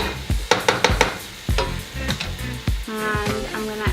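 Ground meat and vegetables frying for chili, a close sizzle broken up by repeated scraping and chopping strokes of a spoon breaking the meat apart, no speech.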